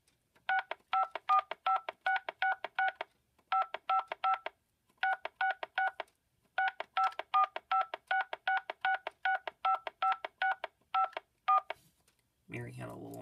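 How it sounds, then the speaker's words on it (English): Touch-tone DTMF keypad tones from a telephone handset on a PBX call, beeping out the melody of Mary Had a Little Lamb in quick rhythmic groups of short dual-tone bursts with brief pauses, ending in a burst of noise. "if you press buttons on your handset, the other party, in this case with this PBX, they can hear it"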